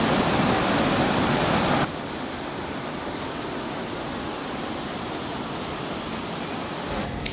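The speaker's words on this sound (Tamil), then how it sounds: "இது ஒரு சின்ன ஃபால்ஸ், அவ்வளோதான்." A small waterfall at Honnammana Halla Falls in Chikmagalur gives a steady, dense rush of falling water, loud and close at first, then slightly softer but continuous, with no voices.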